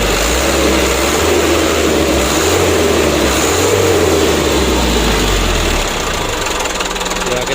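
A shaking engine runs steadily and loudly throughout, a continuous droning rumble with a knocking undertone and no breaks.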